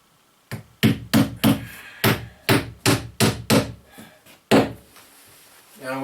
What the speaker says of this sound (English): I'm going to proceed to put nails in all the way around and secure that piece in